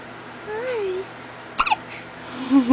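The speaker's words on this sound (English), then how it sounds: "He's got the hiccups." A baby boy with hiccups gives short squeaky hiccups up close, a thin rising squeak followed by a pair of sharp bursts and another squeak at the end, with no talk over them.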